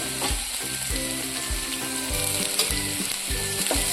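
Green chilies and curry leaves hitting hot ghee in a pan, crackling and sizzling loudly and close, with repeated rhythmic scraping strokes of a spoon through the spluttering oil, no voices.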